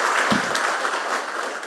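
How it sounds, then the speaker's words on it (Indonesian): A political party audience breaks into applause, a dense, even patter of many hands at a steady level throughout the short stretch, with a brief low thump near the start. "Ayo tepuk tangan yang hebat ngono lho"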